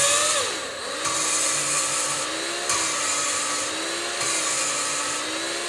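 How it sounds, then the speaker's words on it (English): A valve is lapped by hand into a Ford 390 cylinder head with grinding paste, a steady gritty rasp. Brief breaks come every second or two as the valve is lifted and turned, with a faint whine in the background. "lift it every couple of seconds to let the valve grinding paste come back down"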